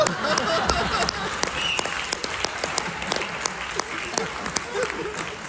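Audience applause at a Kannada association anniversary event in America, a dense sustained wash of many hands clapping with sharp individual claps standing out, steady and fairly loud throughout.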